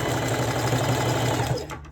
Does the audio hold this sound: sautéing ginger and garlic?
no